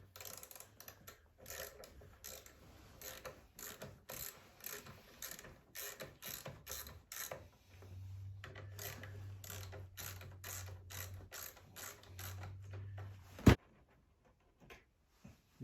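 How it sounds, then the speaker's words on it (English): Hand ratchet on a 10mm socket loosening the battery terminal bolts of a Kodiak 450 ATV: rapid, steady clicking pawl ticks in quick strokes, close and fairly quiet, with a low hum partway through and a sharp knock near the end. "it's a 10mm socket that removes the bolts from the terminals from the battery"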